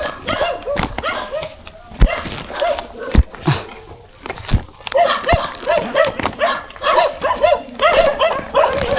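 A dog barks repeatedly and fairly close by, in sharp irregular bursts with short pauses that become a quicker run of barks toward the end.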